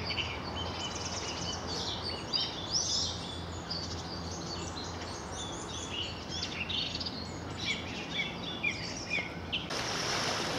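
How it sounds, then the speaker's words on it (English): Several song thrushes sing near a river by a road bridge in the English countryside, bright repeated phrases and chirps carrying over a steady wash of traffic or water noise. "Oh, the old song thrushes."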